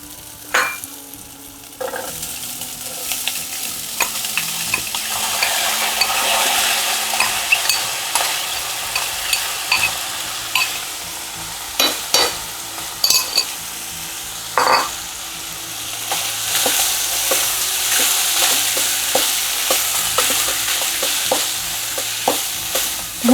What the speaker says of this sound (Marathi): आता मी हे शिजवलेले मूग आणि शेंगदाणे याच्यामध्ये घालते